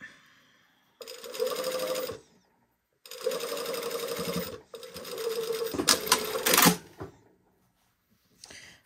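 A sewing machine stitches bias tape in bursts of steady, fast mechanical whirring, three main runs separated by short pauses, with a clack between them and a brief restart at the end.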